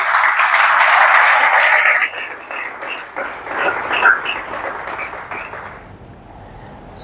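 Church congregation bursts into loud, dense applause, which thins after two seconds into scattered, uneven claps that fade out.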